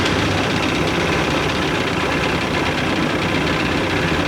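Steady, loud broadband drone of a troubled jet boat engine idling on a lake after warming up, continuous and close with no voices over it.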